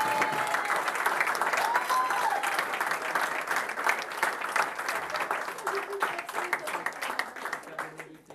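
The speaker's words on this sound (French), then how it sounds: "je vous demande s'il vous plaît d'applaudir" A business networking event audience applauds, a steady dense wash of clapping that holds for several seconds and slowly tapers off, while a faint voice speaks underneath.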